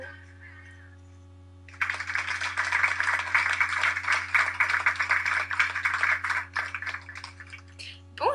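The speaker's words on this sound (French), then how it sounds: "J'aimerais un tonnerre d'applaudissements pour l'accueillir." Applause welcoming a guest on a doll review show, a sustained burst of clapping that starts after a brief quiet stretch and carries on for several seconds over a low steady hum before fading toward the end.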